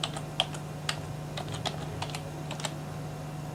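Light, irregular keystrokes on a computer keyboard as a folder name is typed, a short sequence of crisp clicks over a faint steady hum, no voices.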